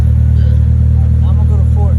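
A Honda S2000 with a loud aftermarket exhaust holds a steady, deep drone at about 2000 RPM, close and constant, with a faint voice in the background.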